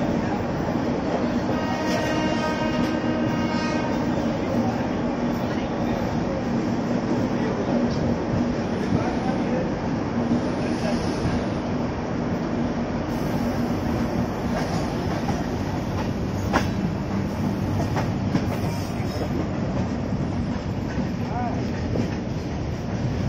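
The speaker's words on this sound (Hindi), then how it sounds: "10:11 अभी हम लोग छूट रहे हैं सूरत से." A passenger train pulls out of Surat railway station at night, its wheels rumbling and clattering over the rails in a steady, moderately loud roll, with occasional squeals and murmuring voices in the carriage.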